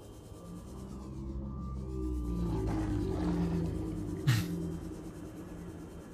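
A deep, drawn-out creature roar like a lion's rumbles through an underwater survival game, a low growl holding for several seconds with a sharper burst near the end over a steady ambient hum.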